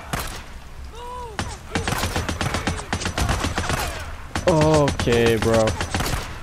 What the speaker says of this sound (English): I'm gonna bring out my handy dandy gun real quick